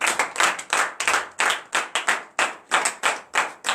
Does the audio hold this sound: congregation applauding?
yes